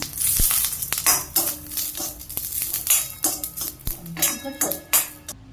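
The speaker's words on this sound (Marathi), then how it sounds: "मिरच्या भाजून झालेल्या आहेत" Green chillies frying in a little oil for a spicy besan dish, with a steady sizzle broken by repeated clanks and scrapes of a utensil against the pan, close and fairly loud.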